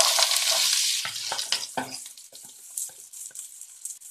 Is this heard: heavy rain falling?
no